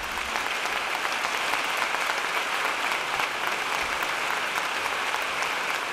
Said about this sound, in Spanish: Un aplauso muy grande para ellos,